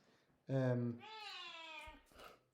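A cat meows inside the Barrowland Ballroom in Glasgow, one short loud cry followed by a longer drawn-out meow, heard close and clear against a quiet room.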